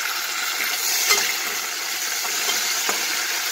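Mint leaves fry in hot oil with onions already browned, a steady bright sizzle filling the whole stretch, with a few faint stirring taps and clinks of a spoon against the pan.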